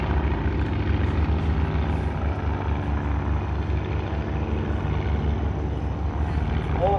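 Propeller engines of a Bristol fighter and a triplane in a dogfight drone continuously with a steady, throbbing buzz, loud and unbroken.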